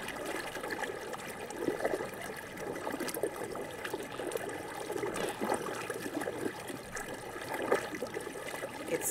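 Water splashing and trickling at an outdoor hotel swimming pool in Orlando, Florida, a steady soft wash with light splashes throughout, fairly quiet and with no voices.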